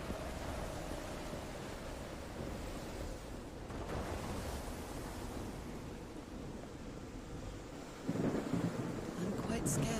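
A thunderstorm rumbles in the Call of the Sea video game, deep continuous thunder over rain noise, with a louder crack-like surge near the end and faint voices mixed in.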